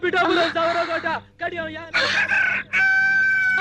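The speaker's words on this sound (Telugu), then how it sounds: "అప్పుడే కోడి కూసిందా" A rooster crows loudly nearby, several drawn-out calls in a row with short pauses between them.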